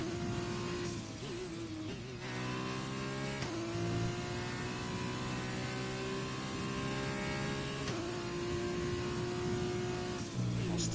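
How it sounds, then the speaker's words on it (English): A Formula 2 race car in a racing video game, driven sideways in a drift, whines loudly and steadily, its harmonic engine note dipping at a few gear shifts and climbing again. "there's a Formula 2 car, not a drift car, but hey. It's always nice to take it for a drift to the old mountains."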